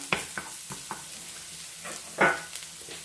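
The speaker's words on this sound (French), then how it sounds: "Là, j'introduis l'ail. Et ensuite les épinards." Garlic and frozen spinach hit a hot pan, giving a soft, fairly faint sizzle broken by a few sharp spatters and stirring clatters, one louder burst near the end.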